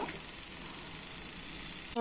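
Mustard seeds sizzle steadily in hot oil, a bright close hiss lasting about two seconds, with a brief clatter at the end.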